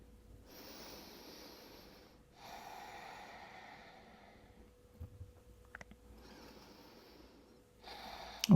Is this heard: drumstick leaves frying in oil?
no